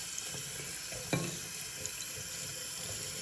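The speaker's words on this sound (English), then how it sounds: "now I'm just gonna go ahead and rinse this off" Tap water runs steadily into a sink while a cleaned Simplex part is rinsed under it. The hiss is soft and even, with one brief clatter near the middle.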